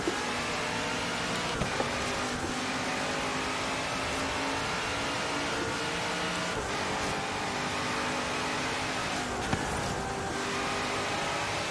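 A Le Mans prototype race car engine drones steadily in Forza Horizon 3, holding a constant mid-pitched hum with a few brief shifts in tone and no voices over it.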